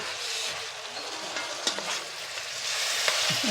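Ginger garlic paste fries in a hot pan for a chicken curry, a soft steady sizzle with a few scraping stirs of a spoon, fairly quiet and without talk.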